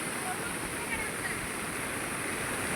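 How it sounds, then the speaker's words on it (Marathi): A rain-swollen river in Konkan rushes in flood with waves, giving a steady, dense roar of fast-moving water that stays constant and loud throughout. "तर मित्रांनो लाटा पण येत आहेत"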